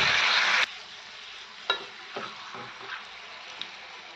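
Curry leaves and a mixed spice blend frying in hot oil over a low gas flame: a loud, dense sizzle for the first half second, then a softer steady hiss with a few scattered pops and crackles.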